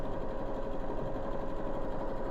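A sewing machine stitches just beneath a seam in a steady, rapid, even whir that runs unbroken and fairly quiet, with no talking.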